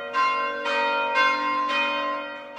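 Church bells at Saint Meinrad, a monastery, ring out in four distinct, resonant strikes, each one sustaining and overlapping the last in a slow, even rhythm.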